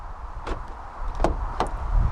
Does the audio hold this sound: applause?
no